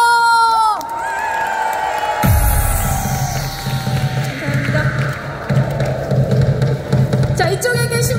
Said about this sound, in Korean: 앉아계신 많은 팬분들의 박수와 함성 소리로 시작할게요